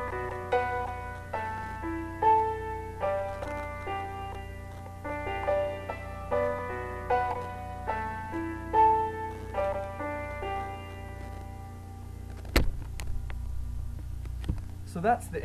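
A keyboard plays the intro of a song, with a bass line and a right-hand melody over a low steady hum, in a quiet, evenly paced phrase that ends with a brief knock.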